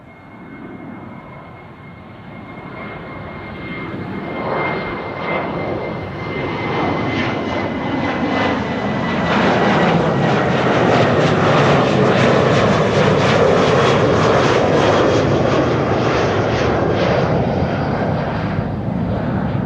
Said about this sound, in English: Delta Airlines Flight 163 to Minneapolis, Minnesota is coming this way